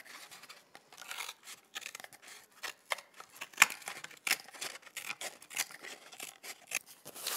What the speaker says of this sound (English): You're ready to cut your paper cup to